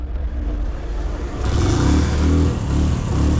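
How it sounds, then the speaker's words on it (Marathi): Vehicle engine running on a ride across India, a close, loud rumbling hum that rises in strength partway through as the engine revs up, steady and without talk. "तर गाडी चालू आहे नाही"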